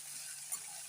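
Bitter gourd frying in a pan while being stirred: a faint, steady sizzle with a couple of small clicks from the stirring, no voices.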